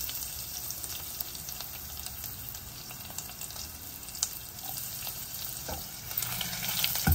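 Fenugreek seeds and garlic frying in oil, a continuous dense hiss and crackle with a few small pops, close and steady throughout, no talking.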